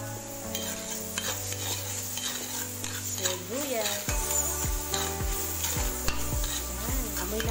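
Chopped onion sizzles in margarine with garlic in a pan and is stirred with a utensil, a steady frying hiss under scraping strokes, with some background music tones.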